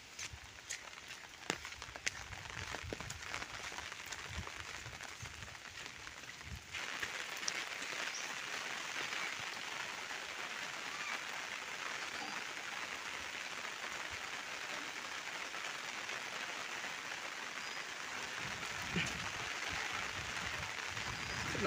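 Rain falls steadily outdoors in the countryside, a dense hiss that sets in after a few seconds of quieter sound with faint thumps, then holds evenly to the end.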